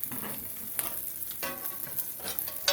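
Food sizzles and crackles in a hot cast iron pan, a steady hiss with sharp pops and spatters scattered throughout, close up and without any talking.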